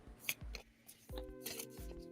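A deck of cards being shuffled, soft riffling and flicking bursts in a quick irregular rhythm, close and quiet, with a faint tonal hum beneath.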